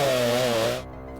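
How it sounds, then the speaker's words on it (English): Combat drill sound effect for a grimdark tabletop skirmish game, a loud revving motor whine that holds steady and then drops abruptly into a lower hum before ending. "The combat drill whirs into life."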